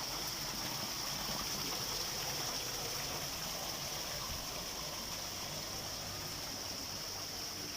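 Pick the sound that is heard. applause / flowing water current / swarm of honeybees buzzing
flowing water current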